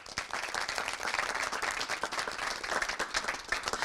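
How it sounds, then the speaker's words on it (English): Lively audience applause at an institute-industry panel event, many hands clapping with distinct individual claps audible in the close, uneven texture, continuing steadily throughout. "A big round of applause, please."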